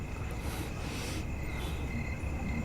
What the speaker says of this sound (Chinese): 蛐蛐儿。